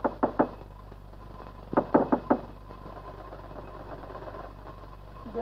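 Two bursts of knocking on a door, three quick raps each, sound out close and clear over a steady low hum, followed by quiet background.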